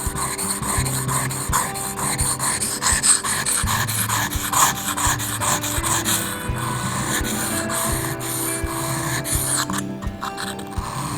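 A leatherworking gouge is rubbed back and forth on a wet 1000-grit sharpening stone, making repeated rhythmic rasping strokes at close range.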